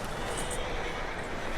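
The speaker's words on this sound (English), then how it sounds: "That looks like a decent horse. You should keep him." A horse whinnies in the Western video game Red Dead Redemption 2, a short, loud, steady burst of neighing over a faint wash of ambient noise.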